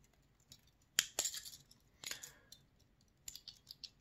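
Metal scissors are handled up close, with sharp clicks and a few snipping, clinking sounds in short bursts, then a brief clatter near the end.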